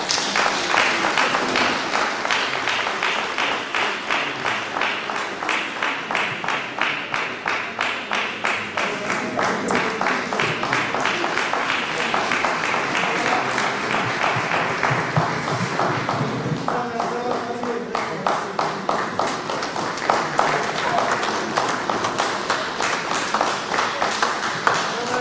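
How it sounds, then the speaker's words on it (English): Sustained audience applause for an executive mayor at a Waterberg District Municipality government event, dense rhythmic clapping from a large hall crowd lasting throughout, steady and fairly loud with no talk over it. "Can we give him the round of applause?"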